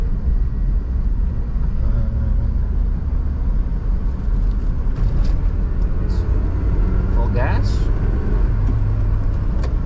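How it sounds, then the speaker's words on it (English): A Suzuki Jimny 1.3 engine drones steadily while driving through the city in third gear at about 30 km/h, a noisy low rumble with road noise and someone talking over it. "you can hear the noise of the engine"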